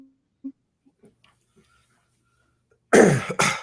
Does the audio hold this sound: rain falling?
no